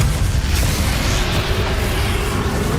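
An explosive Confringo blast in Hogwarts Legacy shows as a dense, loud, sustained rumbling roar that fills the whole moment, with no talking over it.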